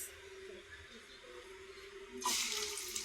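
Sliced onions drop into hot oil in a kadai while a home cook makes a vegetarian dish. A quiet kitchen hum gives way to a sudden loud burst of sizzling that keeps going.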